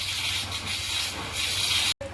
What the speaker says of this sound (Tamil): எண்ணெய் ஊற்றிட்டேன், ஜீரகம், கடுகு போட்டிருக்கேன்.